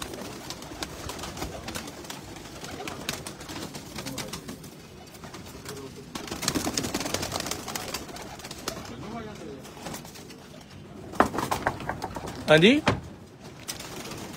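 Racing pigeons kept on a rooftop coo and call now and then while people talk nearby, with a brief, sharper burst of bird calls near the end.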